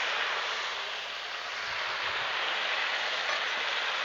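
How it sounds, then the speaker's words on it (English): Loud, steady broadband hiss of meat sizzling on a hot griddle, continuous and close throughout. "There's that sizzle, y'all."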